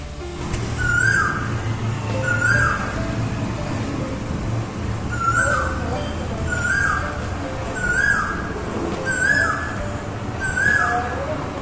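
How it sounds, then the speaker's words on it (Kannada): A cuckoo calls repeatedly outdoors near a home kitchen in the morning, clear rising whistled notes every second or so over a constant background hum, with no voices. "ಎಷ್ಟು ಚೆನ್ನಾಗಿ ಕೋಗಿಲೆ ಕೂಗ್ತಾಯಿತ್ತು"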